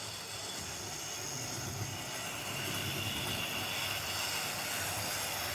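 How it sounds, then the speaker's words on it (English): A Tri-ang R59 model locomotive runs on a model railway layout, giving a faint, continuous whirring and rolling hum that holds steady throughout. "you can't beat the old Triang R59"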